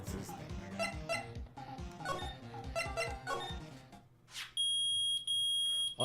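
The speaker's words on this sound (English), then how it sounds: "It's beeping. The metal detector's found something." A metal detector in the Phoenix Wright: Ace Attorney video game gives loud, sustained electronic beeps, steady and piercing, that cut in after a passage of game music.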